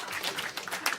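Scattered, half-hearted audience applause at a stand-up comedy show, a thin patter of claps lasting about a second at moderate volume with no talking over it.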